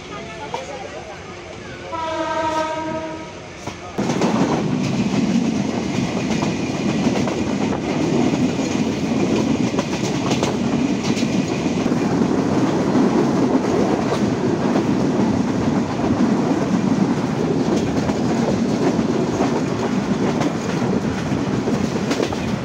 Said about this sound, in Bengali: চিত্রা এক্সপ্রেস ছেড়ে যাচ্ছে বড়াল ব্রিজ রেল স্টেশন